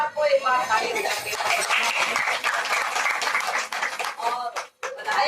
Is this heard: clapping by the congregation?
yes